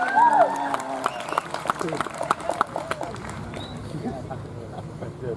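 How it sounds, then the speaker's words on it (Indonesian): A crowd at an Indonesian political gathering gives scattered applause, with irregular claps heard under ongoing speech. "Sekali lagi kita kasih tepuk tangan."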